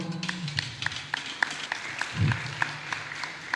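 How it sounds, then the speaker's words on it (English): Scattered, fairly sparse applause from a lecture audience after an international guest lecture at a university, with rhythmic hand claps, a brief low thump in the middle and a murmur underneath. "Please give an applause for Dr. Rakib Chaudhry once more"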